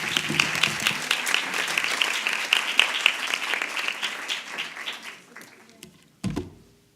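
Audience applause after a speech at an exhibition debate, strong clapping and some cheering that gradually thins out and dies away, followed by a brief low thump near the end.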